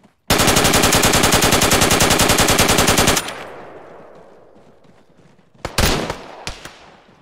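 A long, rapid burst of loud, close machine gun fire in the video game Arma 3, then fading echo and a few scattered single shots.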